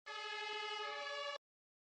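Fire engine siren from the Emergency 2 video game, a single steady electronic wail lasting just over a second, then abrupt silence.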